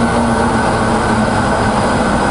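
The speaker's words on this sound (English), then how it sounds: "As we adjust it, we can hear the speed of the motor change." Air seeder metering motor running steadily while its speed is adjusted, a loud continuous mechanical hum and whir with no talk over it.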